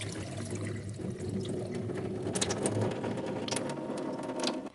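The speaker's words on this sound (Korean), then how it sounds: "이제 이거를 물기 좀 털고 해볼게요." Soaked oats are shaken in a sieve to drain off the water, giving a soft continuous wet rustle and trickle with a few sharper splashes, close and fairly quiet, with no talk.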